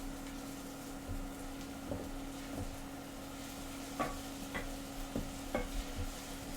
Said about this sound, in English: as I'm cooking these shallots over here, you know, sweating them out